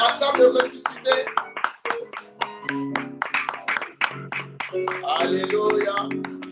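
A worship congregation at a Sabbath service claps in a lively rhythm under loud singing and voices, with the applause swelling toward the end.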